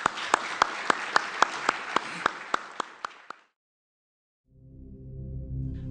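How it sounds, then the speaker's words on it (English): Audience applause after a panel discussion on public pensions: a dozen crisp, evenly spaced claps ring out over a softer clapping bed and fade within about three seconds. A low hum follows after a short silence. "let's give them a round of applause and wrap up"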